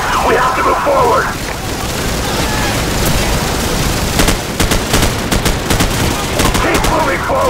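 Heavy automatic gunfire and explosions in Call of Duty 4 on The Bog map rattle loudly and continuously, with sharp shot bursts under shouted voices.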